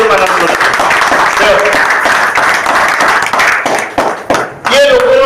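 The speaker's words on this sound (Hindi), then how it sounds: "जोरदार ताली" An audience claps loudly at a public speech for a few seconds, the clapping dense and continuous before it thins out and stops, with a voice talking over it.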